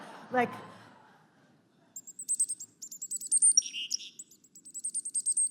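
A person whistles an imitation of a New York chickadee's song, a run of short, bright, rapid chirping notes after a brief spoken lead-in, close and fairly clear.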